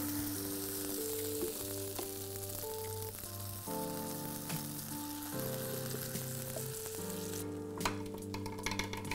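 A vegan corn omelette fries in olive oil in a hot pan, giving a steady, close sizzle that runs throughout beneath prominent background music.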